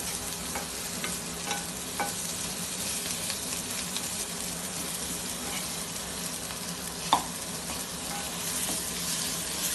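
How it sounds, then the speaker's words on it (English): Spiced potatoes with coriander stirred and frying in a pan: a steady, close sizzle runs throughout, broken by repeated light scrapes and taps of a utensil, with one sharper clack near the end. "Mix it well. Just cook it for a few seconds maybe."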